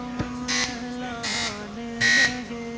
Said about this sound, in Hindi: पहले अपने बजर चेक करवा दीजिए।